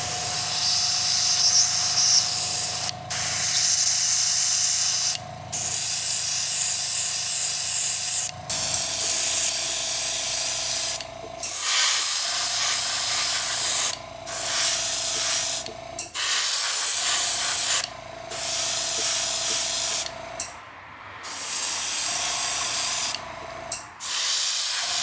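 Coats of finish are sprayed onto a 1957 Gretsch 6120 guitar in a long series of close, loud hissing bursts, each several seconds long, separated by brief pauses, with no talk.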